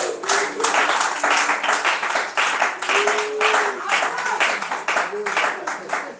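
A church congregation claps and applauds in praise of the Lord, a steady, rapid patter of many hands with voices mixed in throughout.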